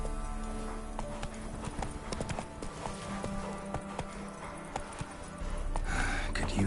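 Horse hooves clip-clop steadily at a gallop as Roach is ridden in The Witcher 3 video game, a continuous rhythmic pounding with occasional whinnies and snorts over game ambience.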